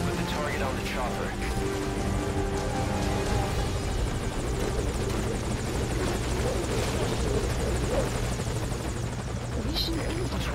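A military helicopter hovers at a landing zone in Metal Gear Solid V: Ground Zeroes, its rotor and engine droning loud and steady throughout, with radio-style voices and game sounds layered over it.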